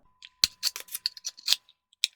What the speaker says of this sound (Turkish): Şimdi ben bunu hemen çıkarıp beyazını takacağım.